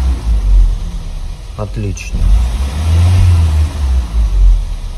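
A 3.2 engine in an Audi A6 C6, running on flushing fluid instead of petrol, rumbles low and steady with a swelling rev toward the end, while someone briefly speaks over it.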